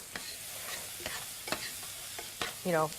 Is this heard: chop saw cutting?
no